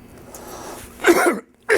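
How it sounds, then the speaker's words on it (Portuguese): A single staged cough from a man on a Brazilian news-commentary program, loud and close, followed a moment later by a second short burst. "Começo tossindo com uma brincadeira"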